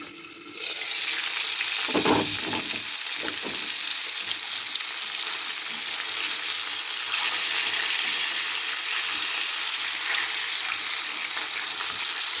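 Large catfish pieces fry in a nonstick pan with a steady, loud hiss throughout, broken by a few crackling bursts near the start as pieces shift in the hot oil.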